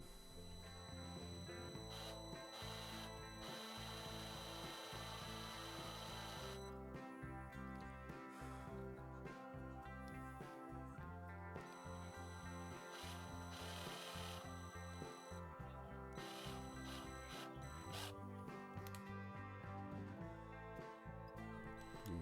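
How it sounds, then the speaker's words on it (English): A loud, continuous drill grinding through metal, drilling out the rivet heads on a Lesney Matchbox Superfast Lotus Europa die-cast toy car, its pitch surging and dropping repeatedly as the bit bites in, steady for a long stretch. "I've picked out a drill bit here to take the mushroom heads off these rivets"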